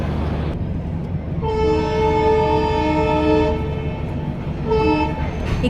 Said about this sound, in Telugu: ఇదే మా ట్రైన్ హౌరాకి.